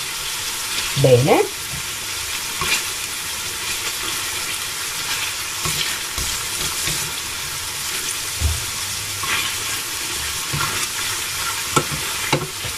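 Monkfish pieces browning in a hot pan, a steady sizzle running throughout with occasional stirring clatter and brief bursts, while a voice speaks briefly over it.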